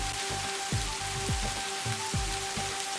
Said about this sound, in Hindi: सोनम, राम और मोहन एक बड़े पेड़ के नीचे बैठकर बारिश का आनंद लेने लगते हैं।